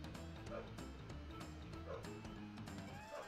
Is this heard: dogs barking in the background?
yes